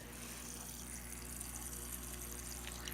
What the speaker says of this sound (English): I like to use a nice water dispenser.